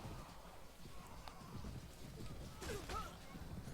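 Horses galloping in a Mount and Blade: Warband battle, rapid muffled hoofbeats with a whinny, faint under a busy mix of game noise and someone talking.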